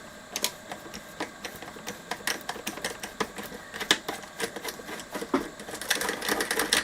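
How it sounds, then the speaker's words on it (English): Ratcheting 8mm socket wrench undoing a nut during an amplifier repair, giving a fast series of sharp, close metallic clicks at a steady rhythm. "Just going to go with the 8mm socket."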